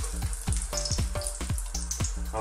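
Lamb and potato cakes are dropped into a frying pan with a little oil, producing a series of quick, close knocks and bubbling sizzle bursts.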